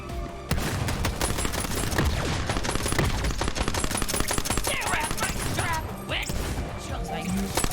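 Dense, continuous gunfire from the video game Borderlands 3: rapid overlapping shots and bursts fill nearly the whole stretch, loud and close, with game effects layered in and a brief dip near the end.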